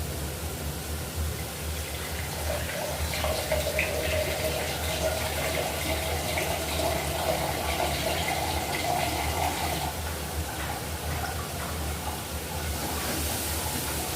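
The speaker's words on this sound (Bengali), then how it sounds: "আর এখন ঝোল দিয়ে দিচ্ছি, ঝোলটা নিয়ে নিই" Gravy is poured into a katla fish curry in a pan, a continuous soft watery rush and sizzle that holds at an even level throughout.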